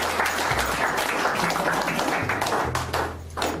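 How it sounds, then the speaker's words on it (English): A short burst of applause, many hands clapping together steadily before tapering off near the end. "Actually, Aaron deserves a bit of a round of applause, doesn't he?"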